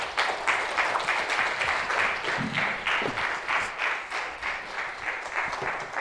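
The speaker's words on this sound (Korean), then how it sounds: "송근존 변호사님 큰 박수로 환영해 주시면 감사하겠습니다" Lecture audience applauding to welcome a speaker, a dense, steady burst of clapping from many hands lasting several seconds with a few faint voices underneath.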